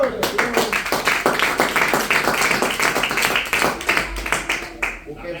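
Church congregation applauding during a sermon, a loud, sustained round of many hands clapping with a rhythmic pulse, close and filling the room for several seconds.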